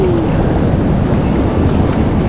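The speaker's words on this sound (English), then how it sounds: "some of those waves come right across too" Ocean waves wash over coastal rocks at a fishing spot, a steady loud roar of surf with wind buffeting the microphone, close and continuous throughout.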